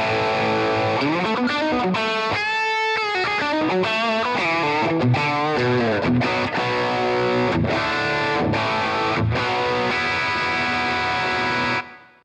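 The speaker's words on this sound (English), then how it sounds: "I'll start from my first scene, which is an overdriven rhythm patch, and it sounds like this." Overdriven rhythm guitar patch from an Axe FX 3 modeller, loud chugging distorted chords and palm-muted riffs played continuously for about twelve seconds before stopping abruptly, no talking.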